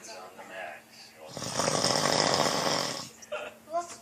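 A man snores loudly in one long, harsh, rasping breath in the middle, with brief bits of talk from people before and after it.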